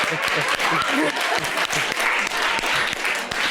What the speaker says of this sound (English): I don't know why you clapping